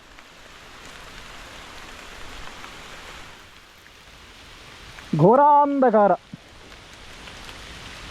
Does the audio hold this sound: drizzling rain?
yes